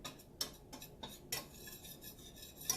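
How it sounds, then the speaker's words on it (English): Spoon stirring Italian sausage and mushrooms in a pan over medium heat, giving faint, irregular scrapes and light clinks spaced through a quiet stretch with no talk. "I'm going to continue to stir it"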